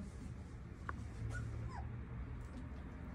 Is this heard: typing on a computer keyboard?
no